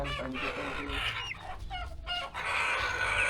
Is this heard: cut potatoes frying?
no